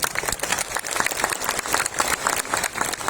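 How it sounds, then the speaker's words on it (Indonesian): A crowd at a political speech bursts into steady, dense applause, loud and sustained throughout with faint voices underneath. "Tepuk tangan dong."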